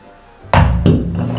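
An object dropped from knee height onto a steel-toe work shoe lands with a sharp, solid knock followed by a second smaller knock, then a faint ringing fade.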